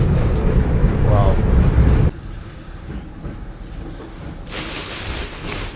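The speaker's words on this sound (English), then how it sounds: "I think it's a beautiful Soviet tram." A Soviet tram rolling past on a city street, a loud, close rumble with rattling that drops away halfway through, leaving lower traffic noise before a brighter hiss returns.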